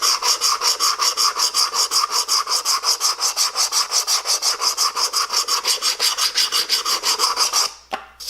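Rhythmic back-and-forth rasping of sanding metal, about six strokes per second, steady and close, ending with a brief clatter.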